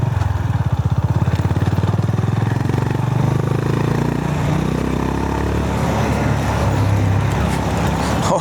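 A 2025 Honda GB 350S ridden off-road, its single-cylinder engine thumping in a fast, steady pulse that rises into a louder droning run, with rattling and rough-ground clatter mixed in and faint wind noise.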